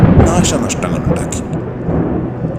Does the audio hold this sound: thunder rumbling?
yes